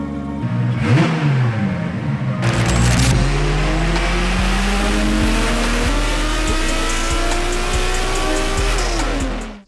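A BMW E46 race car engine on a dyno roars loudly and continuously, revving up steadily in pitch as it climbs through the rpm range, close and unbroken.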